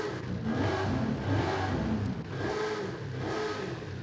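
A 7.4-litre twin-turbo V8 in an Oldsmobile Toronado in Forza Horizon 5, revving with a steady, slightly wavering mid-pitched engine whir. The sound continues throughout at a fairly constant level, recorded quietly with no voices.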